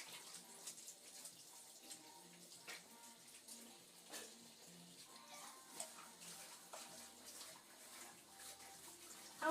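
Kitchen utensils being washed under a running tap at a sink: continuous water flow with clinks and splashes of dishes, fairly faint and close, with no speech.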